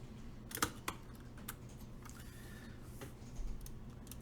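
Keys clack sparsely and quietly on a CoolerMaster Masterkeys S mechanical keyboard with Cherry MX switches and PBT keycaps, a few sharper taps standing out against a low hum.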